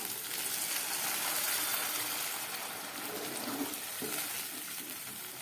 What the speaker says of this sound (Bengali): এবার আমি দিয়ে দেবো এর মধ্যে পরিমাণ মতো জল।